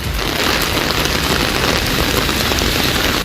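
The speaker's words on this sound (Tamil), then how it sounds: "திருவாரூர் மாவட்டம் திருத்துறைப்பூண்டி மற்றும் அதன் சுற்றுவட்டார பகுதிகளில் கனமழை கொட்டி தீர்த்தது." Heavy rain pours down steadily around Thiruthuraipoondi in Tiruvarur district, a dense, constant loud hiss of falling water with no break and no voices.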